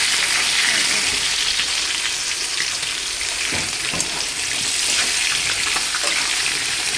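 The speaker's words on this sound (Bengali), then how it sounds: "আলুর মধ্যে মশলা দিয়ে দেবো আমি, একটু কষাতে থাকবে, একটু ভাজা ভাজা হোক" Potatoes frying in a pan with salt, turmeric and spices, a continuous loud, close hiss of sizzling oil with a few brief clatters of stirring partway through and no speech.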